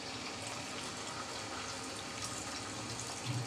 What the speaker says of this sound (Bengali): অল্প পরিমাণে ঝোলের জন্য পানি দিয়ে দিচ্ছি।